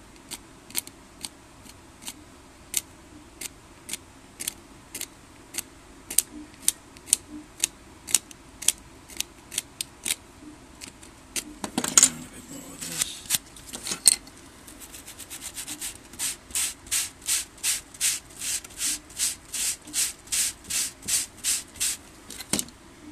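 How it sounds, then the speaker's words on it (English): A knife scrapes a recycled circuit board in close, crisp strokes. Single scrapes are spaced about a second apart at first, then a denser, faster run of rhythmic strokes follows near the end. "I have to just scrape with a knife a bit."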